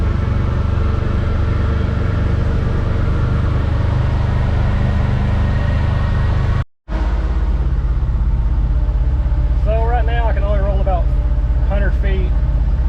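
A 1980 Chevy C70 truck engine pulls steadily in second gear, a loud continuous rumble that drops out for a moment, then resumes with a voice talking over it.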